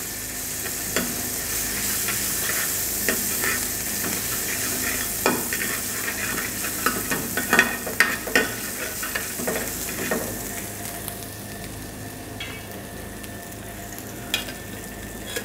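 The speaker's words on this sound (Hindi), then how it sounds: "और गार्लिक को थोड़ा हमने सोटे करना है" Chopped garlic sautéing in half a tablespoon of oil, a steady sizzle with scraping and clicking stirring strokes that cluster in the middle, close and without speech.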